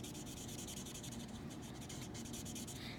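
An ink blending tool is rubbed briskly over card stock to blend Pool Party ink, making continuous close, soft scratchy strokes, faint and steady with no talking.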